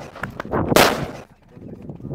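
A firecracker bursts beneath a shallow pool of non-Newtonian fluid, giving one loud, sharp blast near the middle. It is followed by a short spray of splashing and then lower-level rumbling noise.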